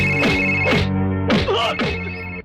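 A telephone rings with an electronic tonal ringtone, about four repeated bursts of rich harmonic tones in quick succession, loud and close.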